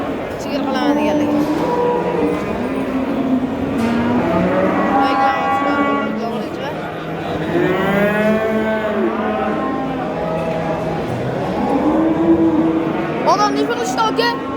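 Cattle moo repeatedly at the Sho'ro livestock market, several long drawn-out calls rising and falling, near and loud, over crowd murmur and people talking.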